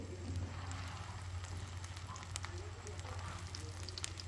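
Shami kababs fry in a pan with a soft, continuous sizzle and scattered small crackles and pops.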